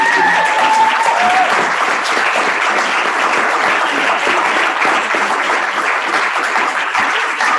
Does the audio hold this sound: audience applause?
yes